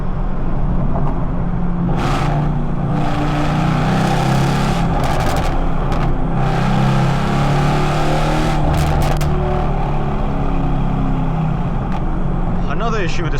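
Mercedes C63s engine burbles steadily while the car drives through London, a continuous low rumble with brief crackling pops throughout, close and loud.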